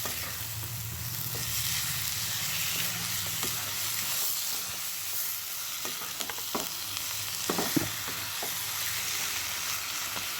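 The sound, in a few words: stirring chicken into masala in a pan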